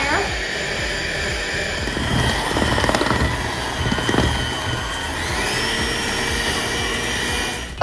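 An electric mixer whirs steadily at a higher speed through rainbow dessert batter, a loud close motor drone with a shift in pitch partway through and some clatter against the bowl.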